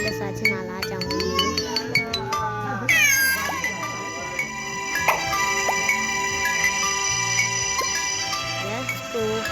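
A cat meows repeatedly, several close, loud meows spread across the clip over a musical backing with light clinking sounds.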